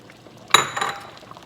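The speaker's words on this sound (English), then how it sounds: "I'm gonna go ahead and add in my shrimp and my sausage and let it cook for about another 5 minutes" Shrimp and smoked sausage drop into a pot of simmering oxtail seafood gumbo, giving one sudden close splash and clink followed by a brief bubbling rattle that fades out within a second.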